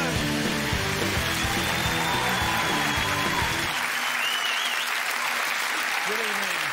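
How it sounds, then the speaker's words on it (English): Studio audience applause and cheering for the host of the Would I Lie to You? panel show, loud dense clapping from a large crowd that cuts off sharply partway through, leaving quiet room tone. "please make some noise, specifically of the excited and welcoming kind, for your host, Angus Dayton."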